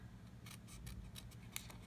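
Quiet, close-up snipping of scissors through paper, several quick crisp cuts in an irregular rhythm with no talking.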